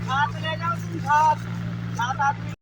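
A steady, low engine drone runs throughout, like a tractor idling and labouring in a wet sugarcane field, with someone talking over it.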